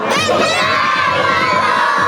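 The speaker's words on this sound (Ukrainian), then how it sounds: "Помахайте ручкою і крикніть вітаємо!" A crowd of children shouts together in one loud, sustained burst of voices.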